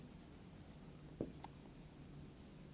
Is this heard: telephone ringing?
no